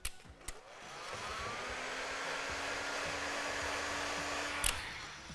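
A hot air blower runs with a steady whooshing roar as it heats tint film on a car window, starting with a few clicks and ending in a short knock.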